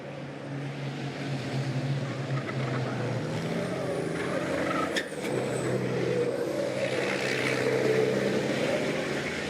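Racing trucks roaring through the Zolder circuit after the Villeneuve chicane, a sustained heavy engine drone with rising revs and a brief dip midway, steady and moderately distant.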